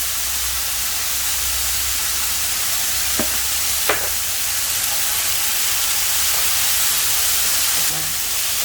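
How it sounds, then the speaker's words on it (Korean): Squash and vegetables lightly stir-fried in a pan, seasoned only with pepper, give a steady, even sizzling hiss throughout, broken by a couple of brief sharp clinks or scrapes near the middle. "살짝만 볶아줍니다"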